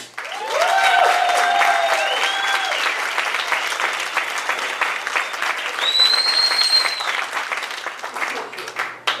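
An audience applauds at a cannabis culture event, a sustained burst of clapping with whoops and whistles rising over it, swelling again midway before tapering off.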